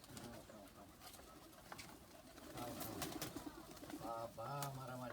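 Pigeons cooing on a rooftop, soft throaty calls rising through a busy background with fluttering and shuffling, a voice speaking briefly near the end.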